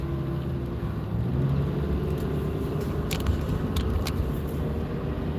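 Road traffic on a mountain road in the morning forms a steady low rumble of passing vehicles, continuous and moderately loud, with a few faint higher clicks.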